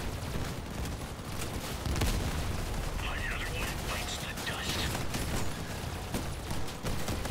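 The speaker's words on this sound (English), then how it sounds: "How many people are shooting at me now, huh?" Sustained gunfire from several players shooting in a video game, a dense, steady crackle of shots with occasional louder bangs, running continuously and fairly close throughout.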